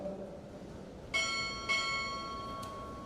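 A ship's bell rung twice during a Navy Chief Petty Officer pinning ceremony, two clear metallic strikes in quick succession with lingering tails, then a brief faint tap, no talking.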